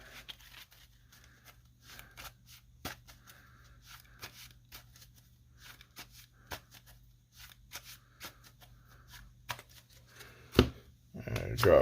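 A deck of trading cards for a card game being shuffled by hand, soft papery riffles and taps running steadily under faint background hum, with a sharper handling noise near the end.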